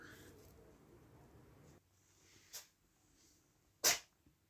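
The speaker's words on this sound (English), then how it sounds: "Oh, sneezing cat." A cat sneezing indoors near beehives being prepared for queen rearing: a small sneeze and then a sharper, louder one, close and brief, with quiet handling noise between them.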